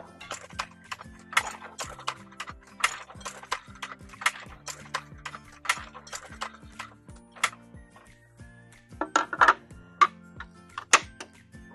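A letterpress printing press runs its rollers through the ink with no form in place, making a steady rhythm of sharp mechanical clacks and ticks at close range, with a faint voice in the background.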